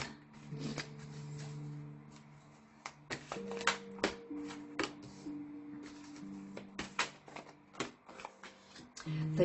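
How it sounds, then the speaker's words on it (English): Tarot cards riffle and slap together in quick bursts, with soft shuffling rustles and crisp flicks close by, no voices. "let me just shuffle a little bit."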